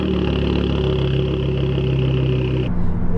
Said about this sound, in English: it'd be a brilliant idea to put a straight through exhaust pipe on this car